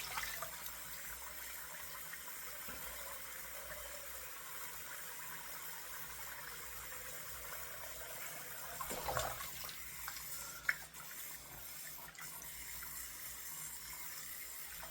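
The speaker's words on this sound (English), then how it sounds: "Warm rinse." Water running steadily from a tap for a warm rinse, a faint even hiss throughout with a brief louder splash and a small clunk near the end.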